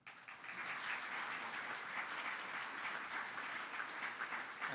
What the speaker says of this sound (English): I think we should definitely have an extra round of applause for Thorsten.